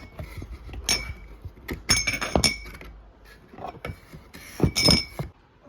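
Drinking glasses given as gifts clink against each other in several bright, irregular clinks and rattles, close by and alone without talk.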